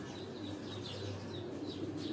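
Breeder pigeons in a rooftop loft give soft, continuous cooing under a low, steady background hum, with faint chirps rising now and then.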